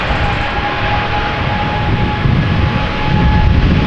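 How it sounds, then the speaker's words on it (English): Engines of a KLM Boeing 777-200ER, sixteen years old, roar loud and close at Amsterdam Schiphol, a dense broadband rumble that swells slightly toward the end, with no talking. "KLM flight 677, 777-200 going to Calgary, Canada"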